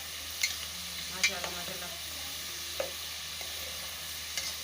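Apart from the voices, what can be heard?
potato chips frying in oil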